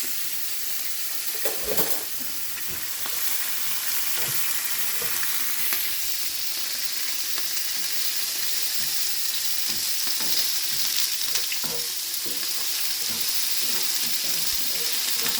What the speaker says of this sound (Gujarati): આદુ મરચાં સરખું જરાક સરસ રીતે સતળાઈ જાય